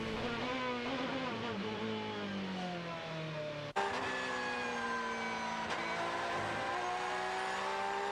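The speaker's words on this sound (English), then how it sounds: "It's going to be fun to see the number 62 Kaffer in the Risi car up through turn 6" The number 62 Risi race car passes through turn 6 during 2015 Monterey Grand Prix qualifying, with a steady engine drone and shifting tones, a sharp gear change midway, heard from a distance.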